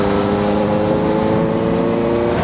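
Honda CB650F motorcycle engine humming steadily and loudly while riding, a constant close-up drone with no talking.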